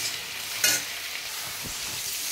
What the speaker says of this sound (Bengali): এখানে সোয়াবিনটা ভালো করে ভেজে নিয়েছি আমি